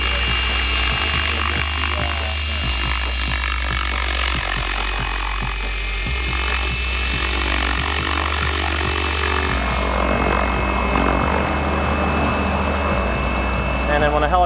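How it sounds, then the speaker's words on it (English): An electric T-Rex 800E RC helicopter hovers nearby, its large rotor giving a steady droning whir with a pulsing low thump that continues without a break. "when a helicopter gets down into ground effect, especially one with that size of a rotor, it's going to kind of float"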